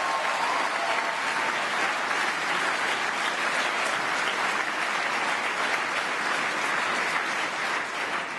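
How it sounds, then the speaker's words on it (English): An audience at the 2009 Ernst & Young Entrepreneur of the Year Awards applauds for several seconds, a thick, sustained, even wash of clapping at a steady level. "Give yourselves a round of applause."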